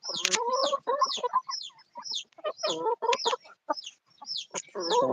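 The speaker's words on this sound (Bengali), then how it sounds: "পাকিস্তানি অস্ট্রেলিয়ান মুরগি এবং দেশি মুরগির খামার" Chickens of Pakistani, Australian and local breeds cluck and squawk close by on a poultry farm in a rapid, irregular series of short calls, with brief quiet gaps between bursts.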